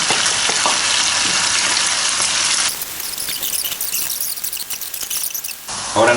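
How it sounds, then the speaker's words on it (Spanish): A mixture of onion and garlic sizzles with browned bacon in a pan, a bright, continuous hiss and crackle up close that shifts in texture partway through as the mixture settles. "Ahora ya que está el tocino doradito, entonces ya echamos, esta es la revoltura de la cebolla"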